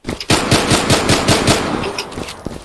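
Rapid automatic gunfire from the Zula online shooter rattles off in a loud, close burst of about a dozen evenly spaced shots, then trails into a few scattered pops.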